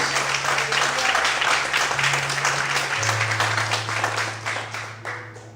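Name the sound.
congregation applauding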